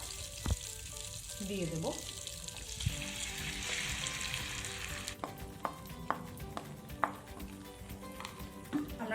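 Spice paste frying in hot oil, the same oil used earlier for frying ingredients for chena kofta, with a steady broad sizzle, some stirring clatter and sharp spatula knocks, while a voice speaks briefly near the start.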